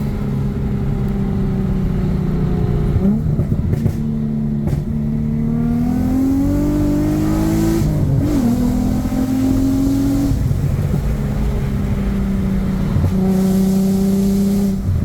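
Nissan G35 coupe with its VQ engine on the move, a loud steady drone that climbs and falls through several revs, with harmonics sweeping up and settling, heard from inside the car without talking.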